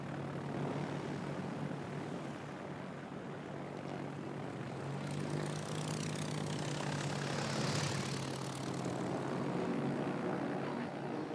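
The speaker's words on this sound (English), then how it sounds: "We'll launch the torpedo bombers, which are quite pretty." Propeller-driven torpedo bombers launching from a carrier in a naval video game, a steady droning engine roar that swells slightly midway and holds at a constant level throughout, with no talking.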